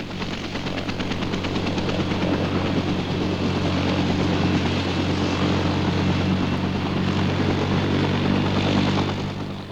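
A fixed-wing propeller airplane drones steadily and loudly in flight, a continuous engine roar with a constant rumble that holds from start to finish with no talking.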